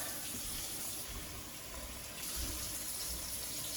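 Tap water runs and pours into a measuring cup for nacho seasoning, a steady, soft splashing gush with a slight surge partway through, close by and unbroken by talk.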